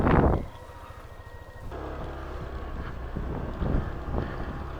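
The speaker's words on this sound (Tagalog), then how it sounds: "Laka ng motor oh." A boat motor drones steadily at low pitch, mixed with heavy wind buffeting and splashing water, with no talking.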